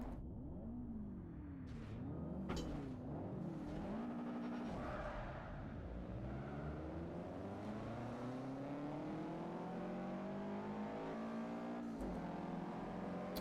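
Race cars in Forza Motorsport 4 roar off together at a race start. Engines rev and shift through rising and falling gears and tires skid briefly. The sound stays steady and fairly quiet throughout, with no talk.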